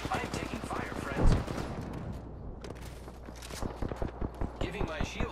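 Incoming gunfire in the game Apex Legends sounds as rapid bursts of shots mixed with a loud boom and scuffling footsteps, while a voice talks over the action.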